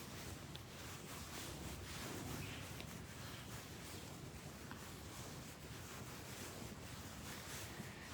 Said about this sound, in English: it's pretty strong wind out there